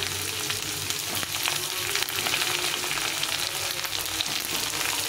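Eggplant and pointed gourd pieces fry in oil alongside already-fried potato, giving a continuous, even hiss of moderate loudness heard close up with no voices.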